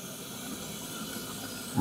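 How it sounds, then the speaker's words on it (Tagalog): Water coming to a boil in a Scarlett electric kettle: a soft, steady hiss of steam with faint bubbling, heard alone and quiet, swelling slightly at the very end. "Kumukulo na siya kung naririnig nyo."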